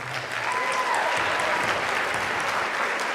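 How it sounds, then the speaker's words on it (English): Sustained applause from an audience honoring athletes at a spring athletics awards ceremony, a dense steady clapping with faint crowd murmur throughout. "we're going to give an applause for that one"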